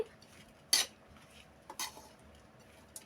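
A spoon stirring bean rice (chikkudukaya annam) in a pot, a few light metallic clinks and scrapes, close but quiet and sparse, with no talk.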